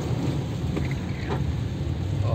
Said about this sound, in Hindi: उस बारिश का कुछ हिस्सा आज हमें कतर में भी देखने को मिल रहा है